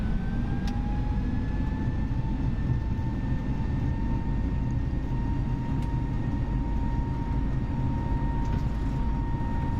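A simulated Airbus A320 in Microsoft Flight Simulator spooling its jet engines for takeoff: a steady, loud engine roar with a slowly rising whine, continuous for about ten seconds.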